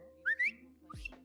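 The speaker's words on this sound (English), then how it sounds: "people keep whistling over to me" Two short rising whistles call out to someone in a GTA roleplay game, followed by a brief lower whistle; clear and alone with faint background.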